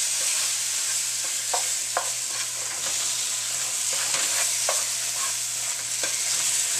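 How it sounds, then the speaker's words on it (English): Bananas with sugar are stirred in a hot pan, a soft steady sizzle broken by light utensil scrapes and clicks, close by with no speech. "We're going to want to stir and incorporate everything together."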